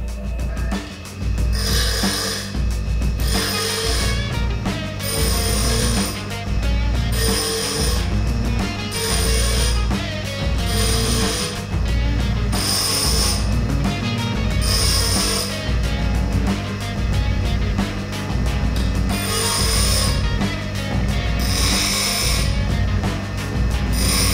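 A carbide-tipped steel turning tool is reground on a bench grinder, its steel shank already ground back and the carbide cutting edge now being worked, giving a loud, continuous grinding whine with repeated bursts of harsher contact throughout.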